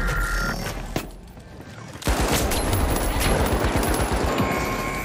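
Heavy gunfire from The Finals, a shooter game, with a sharp shot followed by a quieter lull, then a loud sustained barrage of rapid shots and blasts filling the rest of the moment.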